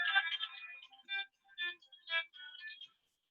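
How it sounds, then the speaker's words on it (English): Mobile phone ringing with a soft, melodic ringtone, a run of notes followed by three or four separate chime pulses, faint and quiet with no talking. "excuse me, my phone's going off."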